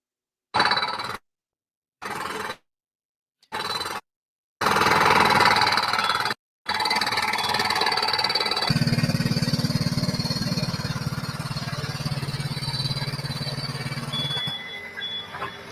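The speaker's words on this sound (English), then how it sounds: "is obviously the forklift that is drilling the ground, the concrete to dismantle those letters" A forklift drilling into concrete ground to dismantle letters of a 50-foot-wide street artwork: loud, steady mechanical grinding and rumbling, broken by a few short cut-off bursts at first, then running continuously with a deep low hum underneath.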